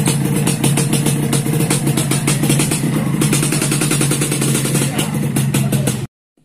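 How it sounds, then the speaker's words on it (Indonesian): A Yamaha RX-King motorcycle exhaust rumbles loudly and continuously with a rapid pulsing throb, revving along close by before cutting off abruptly at the end. "ini kita test ride knalpotnya"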